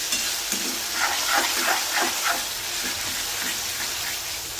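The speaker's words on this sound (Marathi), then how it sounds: "टोमॅटो चांगला परतून घ्यायचा आहे." Tomatoes with crushed garlic sautéing in a pan for a ghevda kadhi, a dense constant sizzle with rhythmic stirring scrapes pulsing through it, close and fairly loud, no voices.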